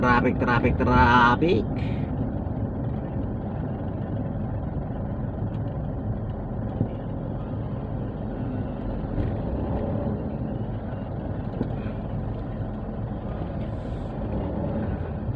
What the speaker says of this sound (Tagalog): Andito na yung traffic.